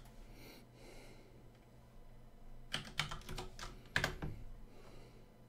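Keys clatter on a computer keyboard in two brief bursts of quick typing near the middle, close and moderately loud over a quiet room hum, with no talking.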